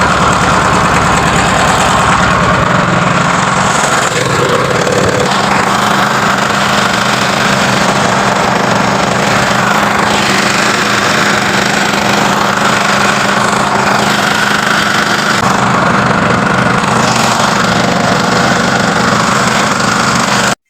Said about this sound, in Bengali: তারপরে বিগত আধা ঘন্টা পরে ট্রলারটি ছাড়া হলো